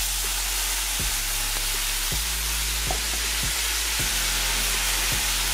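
Squash frying in a pan: a steady, loud sizzle and hiss with occasional soft clicks and taps from stirring, without speech.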